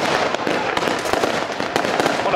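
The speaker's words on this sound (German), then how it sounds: "eine 19-Schuss-Batterie, wuchtige Abschüsse von Kometen und Buketts in Rubinrot, Smaragdgrün und schönen Silberblinkern" A 19-shot fireworks cake battery fires comets and bouquets in ruby red, emerald green and silver glitter, making a dense, loud, nonstop crackle of rapid overlapping bursts throughout.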